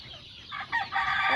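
Chickens on a chicken farm give a short burst of clucking calls, a few rising squawks over a second or so, fairly faint and close, with no talk.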